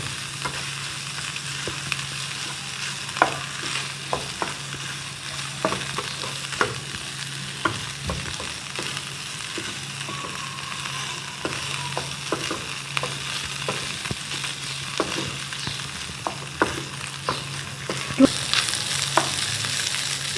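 Minced meat fries quietly in a pan over medium flame, a soft steady sizzle broken by frequent light clicks and scrapes of stirring throughout.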